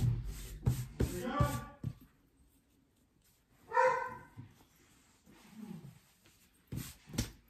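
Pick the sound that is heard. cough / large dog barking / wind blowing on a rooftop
large dog barking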